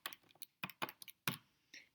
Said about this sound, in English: So I'm typing that into my calculator.